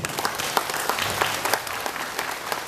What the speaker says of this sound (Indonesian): kita bisa memberi aplaus